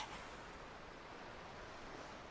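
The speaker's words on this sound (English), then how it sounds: "The sound of the waves retreated into the distance, as Remy once had done in the past." Ocean waves in the visual novel Chaos;Head, a steady, soft wash of surf noise with no distinct breaks, heard alone at low volume.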